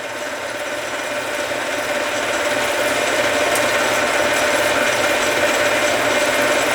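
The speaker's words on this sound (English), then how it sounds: "I don't know if you can see the cutter coming down the workpiece or not there." A metal lathe doing a slow finish turning pass, the cutter feeding steadily along the workpiece, gives a continuous close mechanical whir and hiss with a faint steady whine throughout and no talking.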